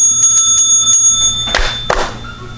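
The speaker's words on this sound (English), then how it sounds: "There's the bell." A school bell rings in several quick metallic bursts, bright and loud, then stops, followed by a couple of short knocks.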